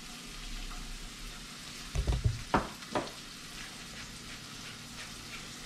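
Sea robin fillets fry in a hot pan with a steady broadband sizzle, and a few louder pops and clatters around the middle suggest the fish being moved or flipped. No one speaks.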